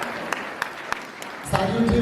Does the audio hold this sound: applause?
yes